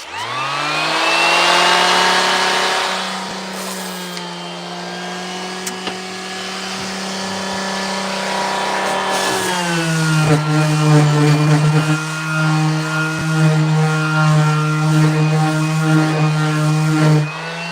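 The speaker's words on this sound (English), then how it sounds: "If I take 10 passes with the palm sander on the left side, I take 10 passes off the right side" A palm sander smooths rough wood, giving a steady, close electric motor buzz that runs continuously and shifts slightly lower in pitch partway through, with no talking.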